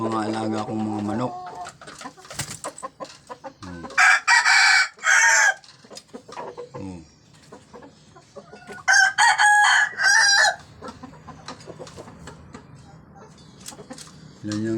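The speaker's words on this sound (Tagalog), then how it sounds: "Ayan yung mga alaga kong mga manok." Seven pet roosters crow in long, loud calls while chickens, including a white hen, cluck and chatter nearby, with several overlapping crows and scattered clucks across a busy farmyard.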